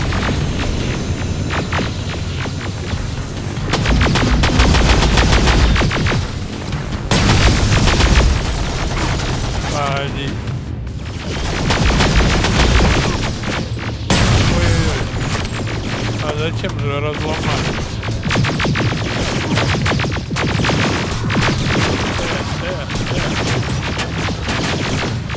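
Sustained rifle and machine-gun fire in Terminator: Resistance, dense rapid bursts with booms and footsteps, loud and close, with shouted voices over the fighting.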